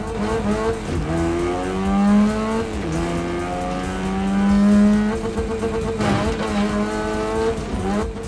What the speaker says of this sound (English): I love the cockpit cam sound effects.